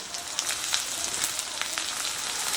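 Diced onion, capsicum and green chilli fry in a pan with a steady, close sizzle and crackle, continuous throughout with small pops scattered over it.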